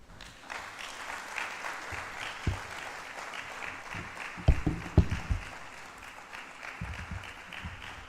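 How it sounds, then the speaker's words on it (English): Audience applause after a talk on education and career development, a moderate, steady clapping wash running throughout, with a few sharper isolated claps standing out near the middle. "Please, a round of applause for her once again."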